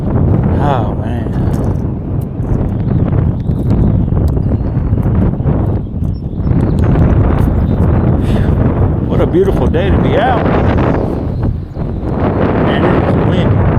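Strong gusting wind buffets the microphone throughout, a loud continuous rumble with surges, on a grassy riverbank during spring fishing; someone talks over it.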